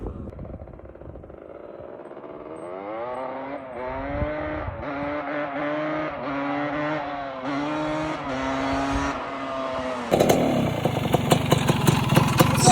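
An ATC three-wheeler's engine runs steadily nearby, its pitch rising and falling as the throttle is worked. Near the end a louder, rougher rush takes over, like wind or acceleration.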